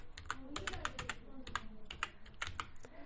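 Rapid keystrokes on a computer keyboard while entering a C program, a steady run of close, crisp clicks in irregular bursts with brief pauses, no talk over them.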